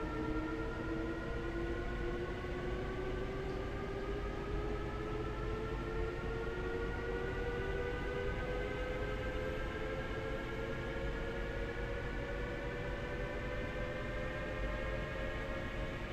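An electric S-Bahn train, a BR 442 in Train Sim World on the Leipzig S-Bahn route, runs steadily with a continuous motor whine whose tones slowly rise in pitch, over constant rolling rumble, with no talk.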